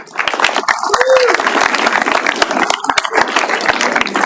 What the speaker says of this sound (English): Add applause.